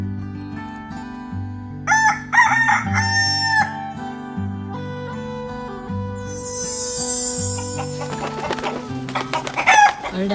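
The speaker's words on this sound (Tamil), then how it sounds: "அடடா, இந்த கோழி பறந்து போச்சே." Chickens cluck repeatedly in a farmyard while a rooster crows loudly, with a burst of flapping and scratching toward the end as a hen flies off; no one speaks.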